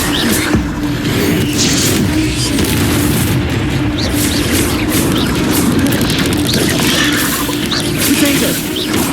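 Spell blasts and explosions in Hogwarts Legacy, a loud dense barrage of booms and impacts continuing without a break, with a voice calling out under the action.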